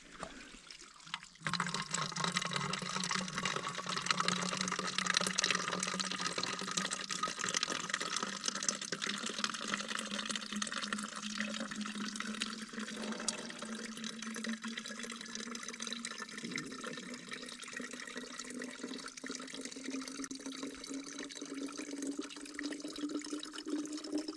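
Water running and filling a container from a source at a campsite in the Smoky Mountains, a steady close trickling and gurgling that continues throughout with no talk.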